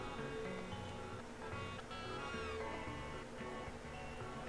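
Cat meows in the Chrono Trigger video game, soft and short, set against dense game music that plays continuously over it.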